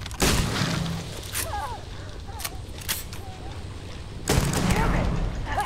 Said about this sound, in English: I think this is a job for the shotgun.